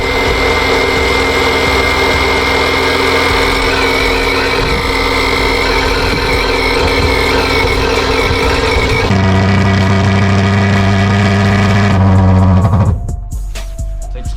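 A petrol fogging machine engine runs loudly after starting, with a steady, buzzing, motorbike-like drone close by. The pitch shifts partway through and the engine roars briefly before dropping near the end. No one talks.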